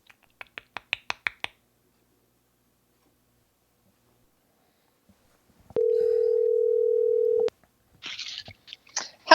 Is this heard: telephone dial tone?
yes